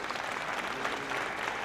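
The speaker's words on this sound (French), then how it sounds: "On peut les applaudir." An audience at a regional business awards ceremony in Loiret applauds the nominees, a steady, even patter of many hands clapping at moderate volume that continues for the whole moment.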